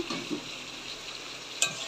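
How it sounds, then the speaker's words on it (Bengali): Fried potatoes are stirred and sautéed in a pan in a village kitchen: a faint, steady sizzle with soft scrapes and a brief clink of a utensil. "এখন আর একটু কষিয়ে নেব"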